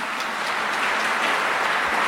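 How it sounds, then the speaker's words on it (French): Audience applause at an award ceremony, a steady broadband wash of clapping sustained evenly for about two seconds with no voices over it. "j'aimerais qu'on les applaudisse très très fort."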